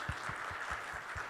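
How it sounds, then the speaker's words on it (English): Audience at a devopsdays Minneapolis conference applauds the sponsors, a quiet, distant patter of clapping with a few soft low thumps. "let's have a round of applause to all of our wonderful sponsors"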